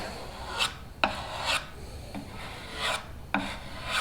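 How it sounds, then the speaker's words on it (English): Bondo body filler being scraped off a panel while still drying, a series of short rasping strokes, roughly five of them, close and fairly quiet, with no voices. "I'm going to have to hurry up and scrape this off"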